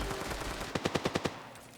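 A quick burst of about six rapid gunshots from the mobile shooter game Standoff 2 rings out over a low background hum, fairly faint and distant.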